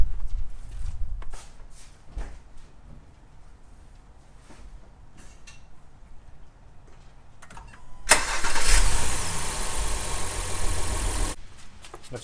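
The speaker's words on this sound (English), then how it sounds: "time to start the car up" A 15-year-old first-generation Honda Pilot, freshly filled with 0W20 oil, cranks and fires into a loud close start. The engine then settles into a steady idle, after some faint shuffling and footsteps.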